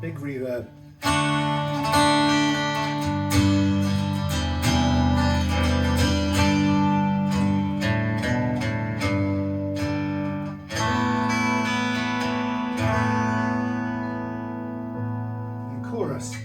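Strummed chords on a Yamaha Silent Guitar drenched in big reverb, a continuous wash of ringing notes with long blurred sustain over about sixteen seconds, played alone at steady volume.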